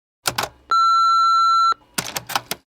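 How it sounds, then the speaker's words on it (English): An old-school answering machine gives a single steady electronic beep lasting about a second, with short bits of talk just before and after. "It looks like an answering machine."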